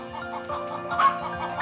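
Black-feathered Ogolgye silkie chickens, kept for years on a mountainside farm, cluck in a soft, steady, repeated rhythm at close range, with one sharper call near the middle.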